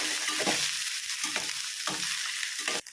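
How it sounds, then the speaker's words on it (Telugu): Chicken pieces fry in ginger garlic paste with a steady, close sizzle, while a spoon stirs and scrapes through the pan in several rhythmic strokes, ending in a brief clatter. "ఇప్పుడు చికెన్ పీసెస్ని అల్లం వెల్లుల్లి పేస్ట్లో కలిపేసేయాలి."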